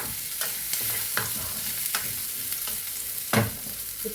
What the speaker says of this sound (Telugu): ఇవి బాగా వేగాలండి